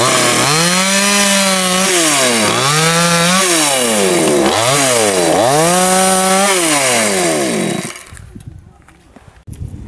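A chainsaw cuts branches while an apple tree is pruned, loud and close, its motor whining up and down in repeated revving sweeps before cutting off near the end.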